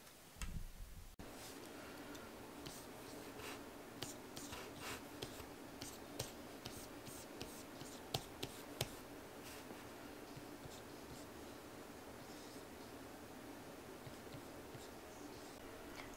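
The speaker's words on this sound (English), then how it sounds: "I'm just gonna sketch some stuff." Pencil sketching a pin design on paper, faint scratchy strokes and light taps that continue steadily and quietly, close to the page, with no voices.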